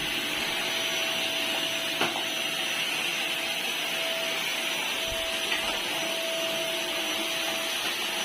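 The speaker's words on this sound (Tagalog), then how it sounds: "Ayan o, mag-vacuum muna si Ate Linda ngayon." A vacuum cleaner runs steadily and loudly throughout while cleaning a friend's house, with a constant high whine and a couple of light bumps, and no talk.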